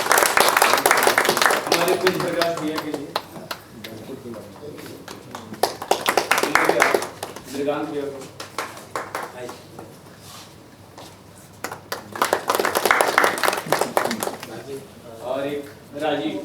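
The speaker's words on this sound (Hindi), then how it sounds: "जोरदार ताली" A theatre audience at a play applauds loudly in bursts of dense clapping, swelling and fading several times while someone speaks into a microphone between and over the rounds of applause.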